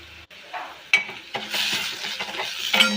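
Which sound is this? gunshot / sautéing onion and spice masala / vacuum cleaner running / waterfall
sautéing onion and spice masala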